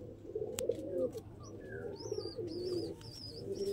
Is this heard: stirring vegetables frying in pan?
no